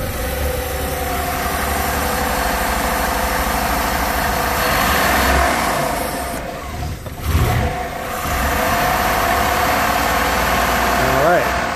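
A cold Modern Microvan engine idles steadily after a choke start in freezing weather, a close, continuous mid-pitched drone that briefly dips and then picks back up, with people talking over it.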